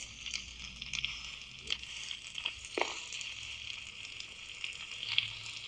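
Continuous crackling and hissing of burning trees with scattered sharp pops, a steady roar underneath, fairly distant and moderate in volume.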